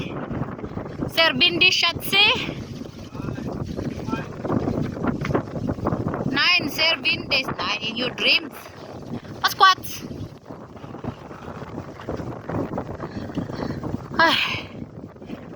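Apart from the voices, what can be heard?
strong wind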